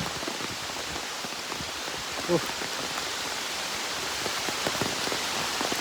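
Heavy monsoon rain pours down in a steady, dense hiss that fills the whole scene, with a brief louder splash partway through.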